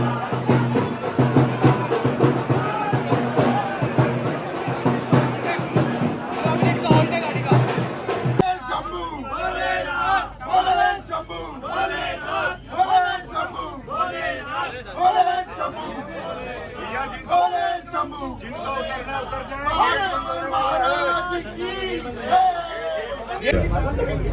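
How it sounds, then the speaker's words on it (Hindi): A large crowd chatters at the Bhopal-Indore Vande Bharat inaugural run, a dense, loud babble of many voices, with someone speaking close over the noise. "बहुत ज़्यादा भीड़ है"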